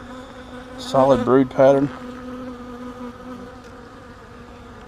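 Honey bees buzz steadily in the background while a beekeeper inspects a hive, a continuous droning hum that runs under brief bursts of nearby speech and carries on alone afterward.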